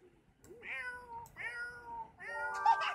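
Three drawn-out meows from a cat in the video game Orlando's World, each a clear rising-then-falling cry, close and moderately loud with short pauses between.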